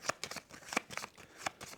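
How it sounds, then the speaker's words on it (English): Three boss cards from the Deck Rogue tabletop game get a quick shuffle, giving short papery riffling bursts that repeat in a loose rhythm, close and fairly quiet, with no voices. "taking those 3 boss cards, flipping them to the other side, giving those a shuffle"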